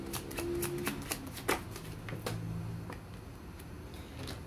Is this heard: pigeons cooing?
no